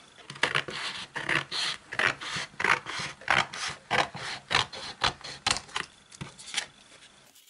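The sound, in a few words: cutting (craft material)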